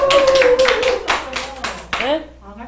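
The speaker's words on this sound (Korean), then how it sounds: "뜨거운 박수." Hands clap loudly and fast from a nearby church gathering, thinning out over about two seconds, while a voice carries on over the claps.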